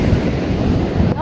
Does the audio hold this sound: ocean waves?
yes